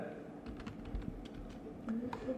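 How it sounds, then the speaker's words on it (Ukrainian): A few light computer keyboard key presses clicking up close, spaced irregularly under a quiet room hum, with a voice speaking briefly alongside. "Нажимаємо на клавіатурі Ctrl плюс C."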